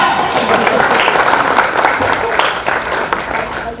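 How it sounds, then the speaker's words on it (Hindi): An audience at an award ceremony in Mumbai applauds, a dense, loud, sustained wash of clapping from a large crowd. "तालियां।"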